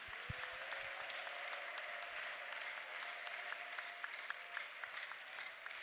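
A church congregation at a year-end prayer service claps continuously in a steady, moderately loud wash of applause, with a faint sustained tone underneath.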